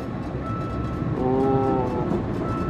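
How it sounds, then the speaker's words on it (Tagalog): A train rolls past a station platform at a slow pace, a steady low rumble with a brief tonal horn-like whine rising in the middle, heard close and continuous without talk. "Ayan na yung train, guys."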